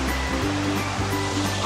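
A small waterfall at a spring in Goa, running low in summer, gives a steady, continuous rush of falling water, moderately quiet, with no voices.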